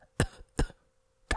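Three short, sharp coughs given on request during a medical exam, evenly spaced and close, with near silence between them.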